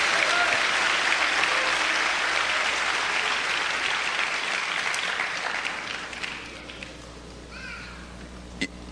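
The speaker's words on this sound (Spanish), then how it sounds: "Démosle palmas al Señor de la gloria." A church congregation applauds together in sustained, dense clapping that fills the room, gradually thinning toward the end.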